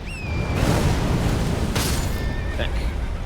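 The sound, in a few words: explosion in a video game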